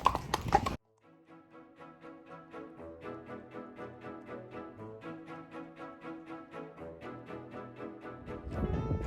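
Steady clip-clop of a horse's hooves while riding past bluebells in the countryside, an even rhythmic beat at moderate distance that continues for several seconds after a brief loud rustle at the start.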